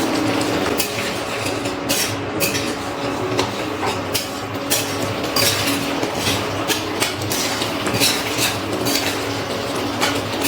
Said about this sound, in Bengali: 10 মিনিট পর ঢাকনাটা তুলে নিচ্ছি। একটু নাড়াচাড়া করে নিলাম।